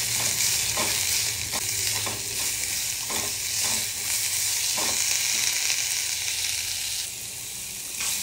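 Ingredients frying and stirred in a pan, a steady close sizzle broken by repeated scraping strokes of the spoon, alone with no talking, easing slightly quieter near the end.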